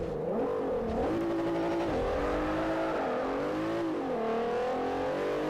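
An Audi TT with four-wheel drive races in Forza Motorsport 4, its engine revving and shifting in rising and falling sweeps, loud and continuous without talk.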